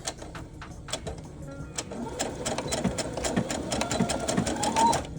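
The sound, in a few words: sewing machine backstitching thin fabric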